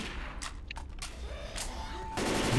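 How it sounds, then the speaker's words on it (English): Machine gun in Left 4 Dead 2 firing several short bursts of rapid shots, with louder sustained fire at the end over a rumbling background. "Oh, you found the machine gun."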